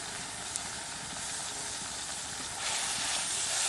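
Chili, ginger and garlic paste hitting hot oil in a pan for a chicken skin curry, giving a steady broadband sizzle that swells louder toward the end, close and continuous with no talk.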